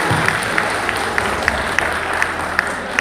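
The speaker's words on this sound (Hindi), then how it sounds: "एक बार तालियां बजाकर मुझे आदेशित करें।" An audience claps together in a steady, rhythmic beat, a broad wash of hands with regular sharper accents, moderately loud throughout.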